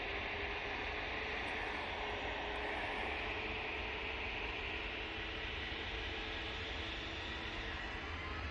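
An easyJet airliner on its takeoff roll, a steady, broad engine roar heard from some distance, continuous and unchanging in loudness with no voices.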